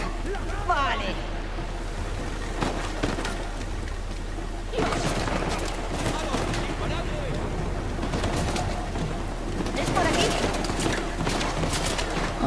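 Gunfire rattles in a firefight in the video game Uncharted: The Lost Legacy, with rapid crackling bursts over ambient game sound and water, and someone talks excitedly through it.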